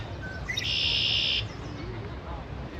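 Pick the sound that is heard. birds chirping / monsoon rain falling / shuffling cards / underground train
birds chirping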